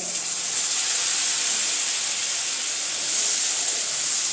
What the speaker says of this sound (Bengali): বাটারটা গরম হয়ে গিয়েছে, এখানে আমি দিয়ে দিচ্ছি এখন আদা রসুনের পেস্টটা।